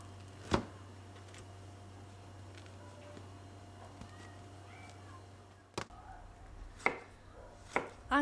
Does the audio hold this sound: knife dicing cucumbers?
yes